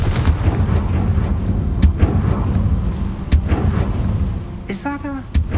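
A Confringo blasting spell goes off in Hogwarts Legacy amid constant combat rumble, with several sharp bursts and a closing crack over a dense game soundscape, a voice heard briefly.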